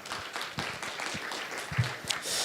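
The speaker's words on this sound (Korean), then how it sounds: "박수로 종합 토론 시작하겠습니다" A conference audience at a Jeju drone-week session on urban air mobility applauds to open a panel discussion, a dense, steady patter of many hands held at a moderate level for a couple of seconds.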